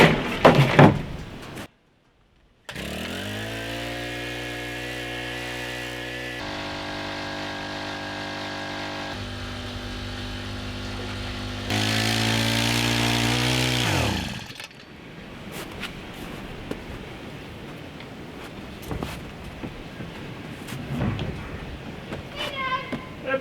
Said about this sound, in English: So I'm just going to start this pump up and get things going.